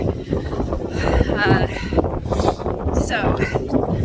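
Gusty wind on a steep slope in Iceland in October buffets the microphone, rumbling and shifting in strength while a person talks over it.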